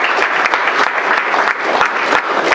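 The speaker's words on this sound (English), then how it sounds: "Can we get one more round of applause for those two?" An audience at a Veterans Day ceremony gives another round of applause, a loud, close, continuous burst of many people clapping with no speech over it.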